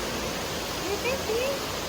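A waterfall roars as a constant, dense rush of falling water, with a faint voice briefly rising above it.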